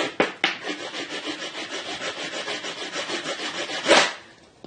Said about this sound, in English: This is an ordinary wood rasp.